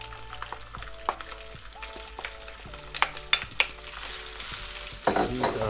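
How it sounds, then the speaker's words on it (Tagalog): Four cups of leftover rice frying in hot oil with garlic over medium heat, a soft continuous sizzle broken by scraping stirs and spatula knocks, with faint background music. "once the oil is hot, let's add our 4 cups of leftover rice."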